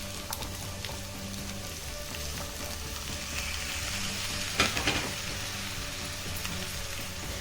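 Potatoes and peas cooking in a pan for aloo matar curry, a soft even sizzle throughout with faint stirring scrapes and one brief louder clatter near the end, no voices.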